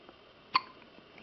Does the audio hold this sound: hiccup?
yes